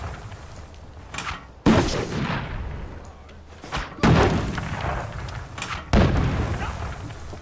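Bombing in the video game We Happy Few sets off several heavy booming explosions a couple of seconds apart, each a sudden deep blast fading into a rumbling tail.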